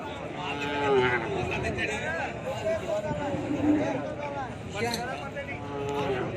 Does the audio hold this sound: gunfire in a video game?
no